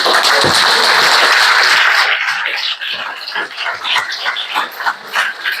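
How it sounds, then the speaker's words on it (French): An audience applauds at the close of a conference talk: dense, loud clapping fills the first two seconds, then thins into scattered claps that carry on to the end. "On peut applaudir Amine."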